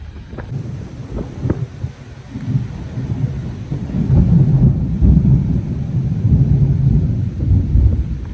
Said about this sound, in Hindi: बादल के गरजने की आवाज़ थी।